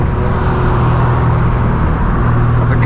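A straight-piped BMW M4 G82 drives along, its exhaust a loud, steady low drone with harmonic bands that holds close and constant throughout, with no talk over it.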